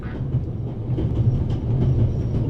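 Steady low rumble and rattle of a train riding along the rails inside the game The Raven Remastered, a continuous mid-loud ride with no talk over it.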